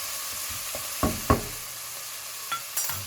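Vegetables sweat in a pan with paprika, giving a soft, steady sizzle alongside a few clinks and scrapes of stirring, fairly quiet and with no talking.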